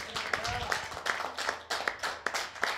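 Audience applause at a coffee house concert: a modest, rhythmic patter of hand claps from a small crowd, with some sharper claps standing out and light talk underneath.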